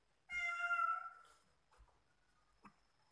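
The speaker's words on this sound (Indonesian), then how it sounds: "Maaf, ada kucing ya." A cat gives one clear, drawn-out meow close by in a quiet room, followed by a couple of faint soft sounds.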